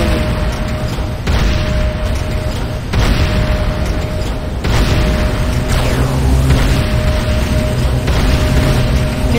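A destroyed Nod structure explodes in the game Renegade, with loud, dense booming blasts and continuous roaring rumble that fill the whole stretch.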